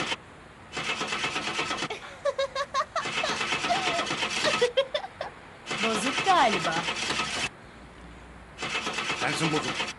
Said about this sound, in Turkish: çalıştır da gidelim şu arabayı